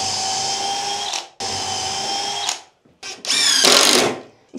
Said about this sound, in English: So now I'm gonna pre-drill and screw this down to the top.